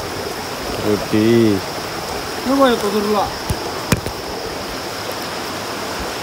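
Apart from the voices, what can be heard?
waterfall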